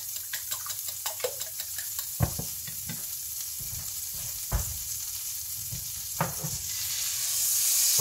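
A whisk or fork clicks rhythmically against a bowl while beating eggs and milk for an omelette, quick light taps with a few sharper knocks, close and alone, ending in a rising hiss.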